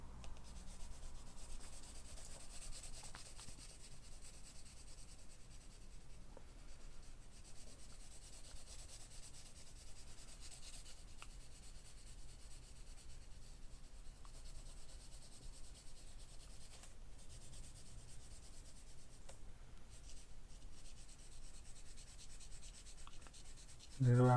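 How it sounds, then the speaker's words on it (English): A pencil shades back and forth on paper, giving a long run of soft, steady rubbing strokes close to the microphone, quiet and continuous without talk. "I'm just gonna go back and forth with the pencil."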